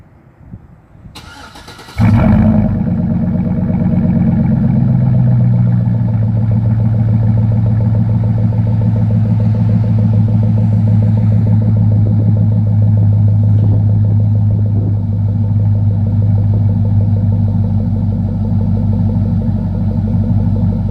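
A 2004 Suburban fitted with a new exhaust cranks briefly, fires up and settles into a loud, deep, steady idle rumble recorded close by, running on for about twenty seconds with no talking.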